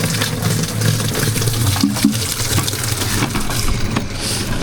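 Water pours steadily from a coin-operated water dispenser, a continuous splashing flow with faint background clatter.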